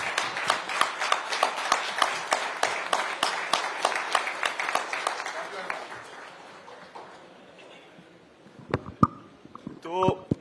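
An audience rises and claps in tribute to Amul's 3.6 million dairy farmers, dense steady applause from a crowd that swells loudly, then thins and fades out, followed by a few scattered voices.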